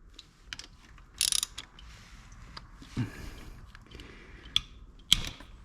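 A 5/16 socket on a ratchet works bolts loose on a Honda, giving a few scattered clicks and short ratcheting bursts close by in a quiet space.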